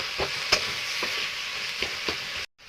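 Tomato frying with salt in a pan, a steady close sizzle with a few soft scrapes and taps of stirring spaced through it, ending abruptly.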